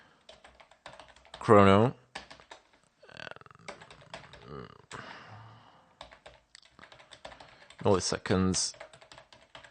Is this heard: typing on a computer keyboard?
yes